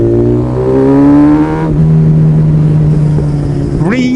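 A motorcycle nicknamed The Punisher on its first ride hums loud and close, its engine pitch rising and holding steady, then revving sharply at the end, with wind rush over it.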